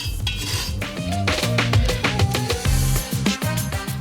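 Flour is stirred and beaten into bubbling fat in a pan to make a roux, with close, busy scraping and clinking of a utensil against the pan throughout.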